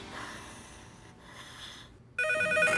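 A telephone rings loudly in a French cartoon family scene, a bright electronic trill bursting in near the end after a stretch of quiet background noise.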